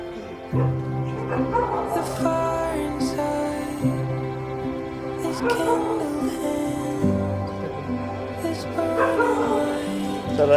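A small female dog being treated with chemotherapy for a vaginal tumor whimpers and yips in drawn-out, whining cries. Recorded up close, the sound carries on steadily as sharper yelps break through from time to time.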